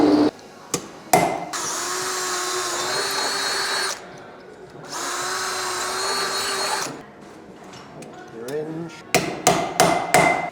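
Sheet metal parts of a Thorne bee smoker being hammered together in a factory: sharp separate metal blows at the start and end, with long steady machine whines running between them.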